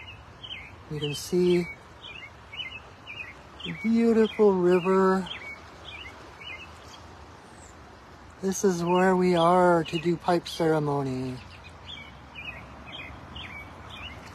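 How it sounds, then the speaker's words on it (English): A robin sings near a river outdoors, its short high chirps repeating steadily in the background while someone talks in two stretches over it. "You hear the robin singing behind us."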